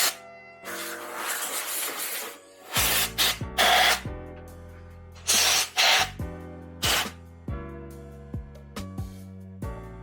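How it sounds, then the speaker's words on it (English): Compressed air blown around the valve cover area of a KTM 250 SX-F dirt bike engine: several close, loud hissing bursts of varying length from an air nozzle, separated by short gaps, with a faint background hum and no talk. "It's never a bad idea to blow some of the dust out of the valve cover area just so it doesn't fall into your motor."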